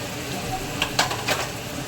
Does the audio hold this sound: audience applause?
no